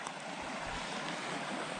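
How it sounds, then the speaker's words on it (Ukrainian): A mountain river waterfall in the Carpathian foothills rushes in a steady, dense broadband roar, continuous and even throughout, with no voices over it. "О, як гірська річка."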